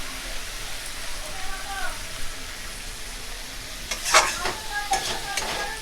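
Spices being stirred and fried in a pan after Kashmiri chilli powder goes in for a soybean dish, a steady sizzle with scraping strokes that grow louder and busier toward the end, with faint background talk.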